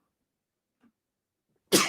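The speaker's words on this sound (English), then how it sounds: "I'm just going to sneeze." A single sharp sneeze bursts out loudly near the end, after a stretch of near silence with only a faint small sound before it.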